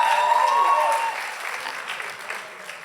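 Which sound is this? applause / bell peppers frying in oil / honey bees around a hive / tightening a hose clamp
applause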